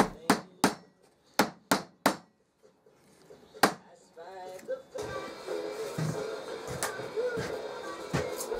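Fret wire being tapped into a tapered salvaged-oak guitar fretboard, with a run of sharp, evenly spaced hammer knocks, then a single knock and softer rustling handling noise.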